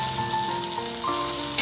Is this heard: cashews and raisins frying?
yes